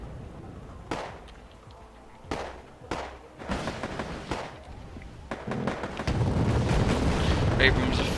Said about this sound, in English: Abrams are firing